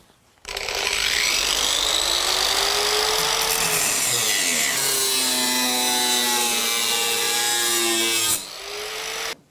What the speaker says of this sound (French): Un premier passage pour faire une rayure sur la tôle et ensuite on découpera réellement.